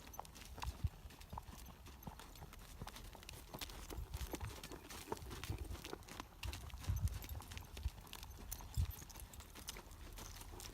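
Steady clip-clop of hooves on ground, a young horse warming up at a regular gait nearby, with faint background noise and no talking.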